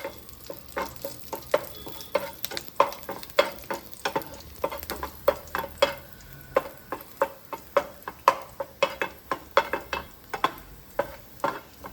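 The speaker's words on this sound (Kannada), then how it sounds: "ಬೆಳ್ಳುಳ್ಳಿ ಒಂದು ಸ್ವಲ್ಪ ಫ್ರೈ ಆಯ್ತು" Garlic frying in oil for a Sunday chicken dish, a steady sizzle broken by frequent sharp clicks of a stirring spoon against the pan, close and fairly loud, with no talking.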